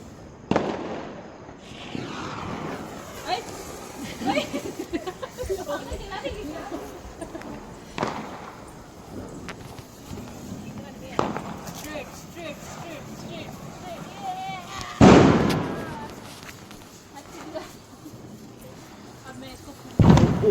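Diwali firecrackers go off outdoors in a few separate loud bangs spaced well apart, one especially strong, while people talk and call out throughout.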